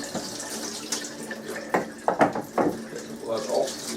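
Tap water runs into a bowl being rinsed at a sink, splashing in a few uneven bursts against a low background hum, fairly close and quiet.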